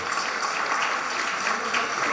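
An audience at a film event breaks into steady, dense clapping after a song, a continuous wash of applause filling the space at an even level, with some voices mixed in underneath.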